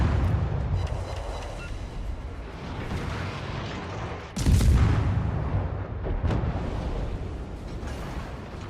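Warship guns in World of Warships boom out in a heavy, roaring salvo over a constant rumble of battle noise, followed by a second, sharper report a couple of seconds later.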